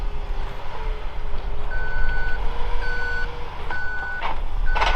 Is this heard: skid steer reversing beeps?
yes